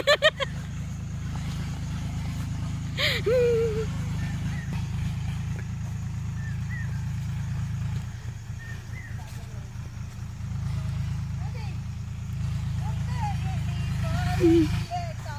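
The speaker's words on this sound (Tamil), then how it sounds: "இங்கே டிராக்டர் ஓடிக்கிட்டு இருக்கு" A tractor engine chugs steadily nearby in a garden with a low, throbbing drone, while people talk intermittently over it.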